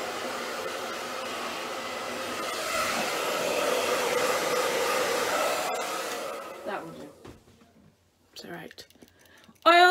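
Hair dryer blowing steadily while drying hair, a close, even whooshing hum for several seconds before switching off, followed by quiet clicks and rustling.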